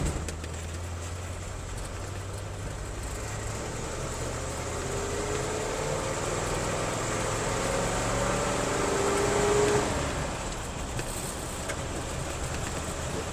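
A Ford F600 truck fitted with a Chinese Holley carburetor idles steadily with a low, continuous engine drone. The level stays even and swells slightly near the end.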